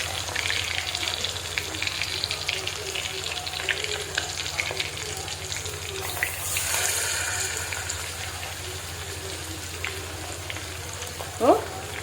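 Mackerel frying in hot oil in a pan, a steady broadband sizzle with constant crackle over low cooker hum, briefly louder midway and ending with a short sharp clink.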